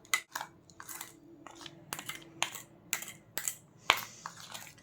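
A spoon scrapes and clinks in a small bowl, stirring a milk and multani mitti face pack in an irregular rhythm of close, crisp strokes with quiet gaps between them.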